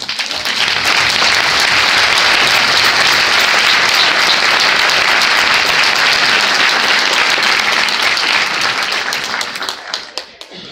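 Theater audience at a film Q&A giving a guest a round of applause, loud dense clapping that holds steady for about nine seconds before tapering off into scattered claps.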